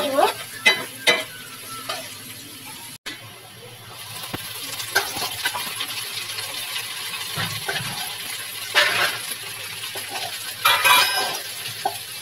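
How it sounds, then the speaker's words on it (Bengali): Onion and garlic fry in a pan of hot oil with a loud, continuous sizzle, broken by stirring scrapes and metallic clinks from the cookware. It is close and there is no talk. "ভাজার পরে এখন পেঁয়াজ রসুন দিয়ে দিলাম।"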